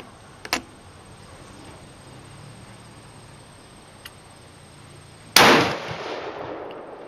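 A single sharp, loud crack from a 22-243 Middlestead rifle fired at very high velocity, decaying with a short echo tail outdoors, preceded by a few faint clicks.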